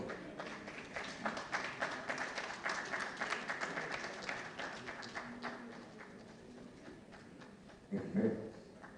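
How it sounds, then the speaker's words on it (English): Scattered audience clapping at a book launch in Ghana, uneven and moderately loud at first, then thinning and fading, with a brief louder burst near the end. "Ladies and gentlemen, a round of applause."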